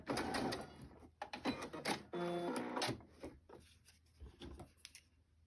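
A sewing machine runs in short bursts, its mechanical whir stopping and starting between quieter pauses, close and fairly soft.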